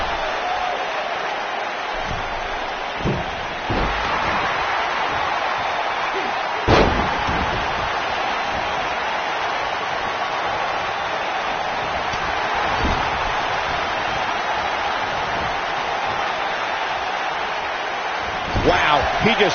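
A wrestler body-slams an opponent in the WWE 2K19 video game: several sharp, loud impact thuds land over a steady crowd roar, with commentators talking throughout.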